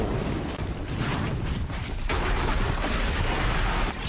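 A sustained fiery explosion roars in the action game Horizon Zero Dawn, loud and dense for about four seconds with crackling bursts and rumble, and no voice over it.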